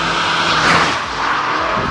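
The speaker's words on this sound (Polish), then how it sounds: "powyżej 3000 obrotów silnik łapie jeszcze drugi oddech i jeszcze mocniej dociska nas w fotel" A loud, steady engine roar from a 2018 Peugeot 308 GTi accelerating above 3000 rpm fills the whole stretch, a dense broadband drone with no pauses and no voices.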